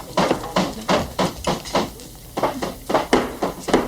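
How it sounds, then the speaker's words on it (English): Repeated hammer blows on a construction site in a TV scene, about a dozen fairly loud strikes in an uneven rhythm, close by and with no voices. "Would you hold the damn hammering, please?"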